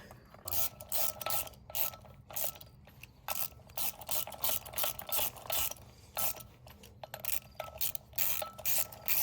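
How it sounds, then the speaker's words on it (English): Ratchet wrench tightening bolts on a BMW E46 330i engine during a supercharged rebuild, a steady run of rapid metallic clicking bursts close up with brief pauses between pulls. "Tighten the bolts."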